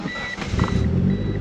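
A Toyota Supra MK4 engine cranks and catches after a jump start, a brief mechanical churn rising into a low, steady idle rumble close by, with a faint beeping tone overhead.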